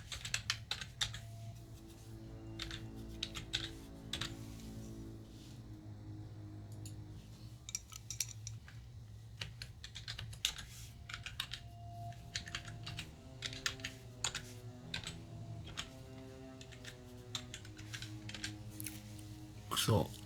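Email and password being typed on a computer keyboard, with quiet, quick irregular key clicks tapping in bursts at close range for the whole stretch, and a voice speaking softly now and then.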